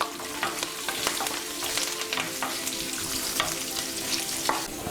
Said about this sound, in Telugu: కొంచెం ఫ్రై అయిన తర్వాత ఎండుమిరపకాయలు, కరివేపాకు వేసుకుందాం.